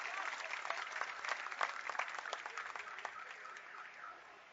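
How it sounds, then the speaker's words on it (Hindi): A crowd at an outdoor election campaign rally in Ellenabad claps during a turban-welcoming ceremony for a politician. The scattered, steady applause comes from a distance, faint and lasting several seconds with some voices. "जोरदार तालियां बजा के भाई।"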